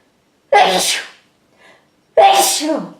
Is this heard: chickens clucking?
no